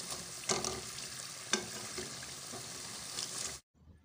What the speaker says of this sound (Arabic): صافي دابا هما تحمروا، غادي نحيدهم نقطعهم من الزيت مزيان